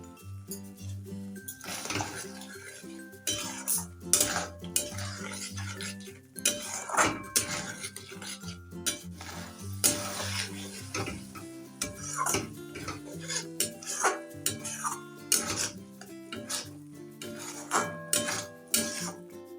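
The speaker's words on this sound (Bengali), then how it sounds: "সবসময় কিন্তু মশলাটা নাড়তে হবে।" A spoon scrapes and clinks against a metal pan while spice masala with peas is stirred for matar paneer, giving irregular close-up knocks and rasping strokes over faint background music.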